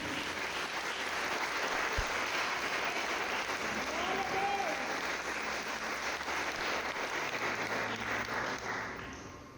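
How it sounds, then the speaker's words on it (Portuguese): A church congregation applauds steadily and loudly for the full stretch, a dense wash of clapping from a large crowd with a faint voice briefly audible beneath it. "Pode aplaudir Jesus."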